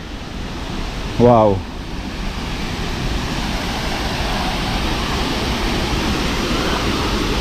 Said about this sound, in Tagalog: Ito na ang Tangadan Falls.